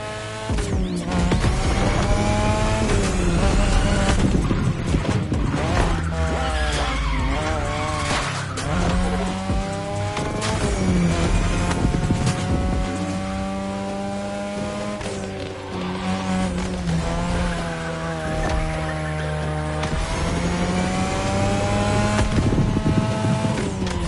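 Race cars in the video game The Crew Motorfest roar continuously at high revs, with rising and falling engine whine, gear shifts and tire squeal carrying on loud throughout.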